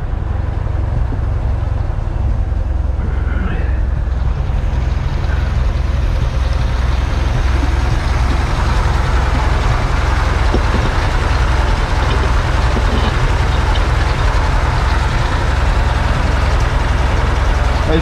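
A 1959 Chevy Apache Napco 4x4 truck engine idles with a cam, giving a steady, loud, continuous low rumble that holds unchanged throughout with no pauses.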